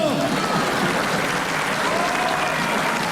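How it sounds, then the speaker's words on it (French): Loud, dense studio audience applause on a French radio comedy panel show, a continuous roar of clapping filling the whole stretch with a crowd murmur underneath. "Qui vient d'applaudir Kersozon?"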